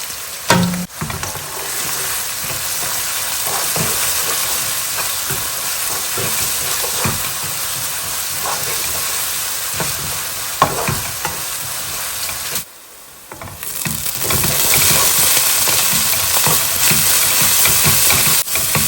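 Chopped onion frying in a pan, with a steady loud sizzle and hiss, stirring scrapes throughout and a brief lull before the sizzling swells again.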